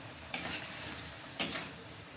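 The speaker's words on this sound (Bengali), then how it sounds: "লঙ্কা গুঁড়ো দিয়ে দিলাম এক চামচ জিরে দিয়ে এবার মশলাটা খুব ভালো করে আমি কষিয়ে নেবো" Spice paste of chilli powder and cumin sautéing in a pan for a rohu fish curry, two sharp spoon scrapes against the pan over a constant bright hiss, close and clear.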